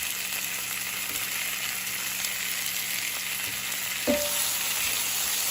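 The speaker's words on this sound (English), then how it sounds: "And I'm going to let this saute for about a minute" Onions, ginger, garlic, tomatoes and bay leaves sauté in a pan over medium heat, giving a steady, close sizzle with a brief clatter of stirring near the end.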